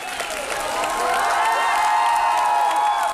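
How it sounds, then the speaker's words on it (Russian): A large youth-festival audience gives director Vladimir Menshov a thunderous ovation, with dense, sustained clapping, cheering and whoops that swell and hold steady throughout. "Маэстро кинематографии молодежь со всего мира приветствовала бурными овациями."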